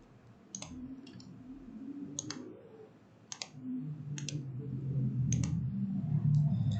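Computer mouse clicking while working in Revit software, about half a dozen crisp, evenly spaced clicks close to the microphone over a low murmur of background noise.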